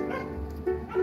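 Several dogs bark noisily around feeding time as a horse passes, making a brief, loud burst of overlapping yips and barks.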